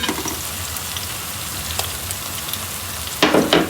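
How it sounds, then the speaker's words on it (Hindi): Garlic ginger paste frying with onions in a pan, a steady close sizzle throughout, with a louder burst of spattering near the end. "थोड़ा सा इसको भूनेंगे लहसुन अदरक को"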